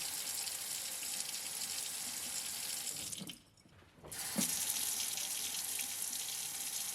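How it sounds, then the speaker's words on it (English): A kitchen sink faucet runs steadily after a water softener install, a loud continuous rush of water that briefly cuts off near the middle before resuming just as strongly. "Here's a little before and after of my kitchen sink running."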